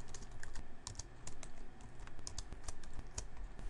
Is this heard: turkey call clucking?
no